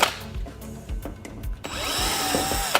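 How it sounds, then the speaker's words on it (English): A power drill used during a wall repair to mount a new unit: short rattling bursts of handling and tool noise, then a sustained near whine that holds steady and loud to the end. "We're gonna need our drill now."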